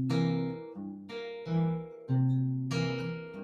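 Fingerpicked acoustic guitar played in straight, even eighth notes, a handful of evenly spaced plucked notes ringing close and clear with no talking.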